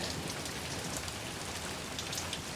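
Steady rain falls outside over a garden in May, a dense, even patter of drops on surfaces that holds constant and moderately loud for the whole stretch with no voices.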